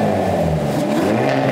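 Hyundai Elantra N four-cylinder petrol engine revving, a steady loud close-up drone with a slight rise in pitch, heard alone.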